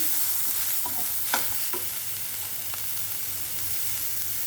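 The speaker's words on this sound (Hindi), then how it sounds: "और ये मिर्ची डाल देती हूँ। पहले डालने पे फिर छींटे आएंगे।" Chillies hitting hot oil for a crispy veg spring roll filling give a steady close sizzle with a few sharp spatters and pops near the start, then a continuous even frying hiss.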